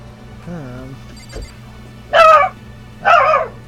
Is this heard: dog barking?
yes